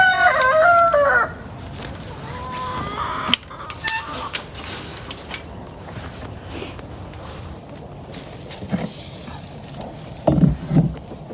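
A rooster on a homestead in cold winter weather crows once at the start, a brief harmonic call that gives way to clattering, scattered knocks and low background noise.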